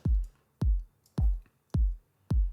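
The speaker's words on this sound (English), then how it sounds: "Yeah, really nice kick." A kick drum sample with no extra processing, five deep punchy thumps in a steady four-on-the-floor pulse, each with a quick low boom and short tail, heard alone and up front.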